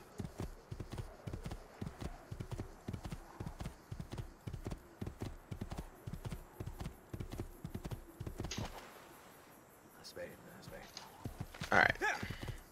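Horse hoofbeats in Assassin's Creed II clip-clop rapidly at a steady gallop, then slow and fade, followed by a few scattered clicks and a brief snort.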